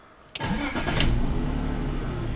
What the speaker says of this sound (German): Das können wir natürlich jetzt gucken, indem wir den Motor starten.